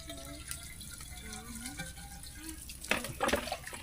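Water gushing from a Jetmatic hand pump arrives as loud splashing bursts near the end, after quieter low sounds and faint background murmur.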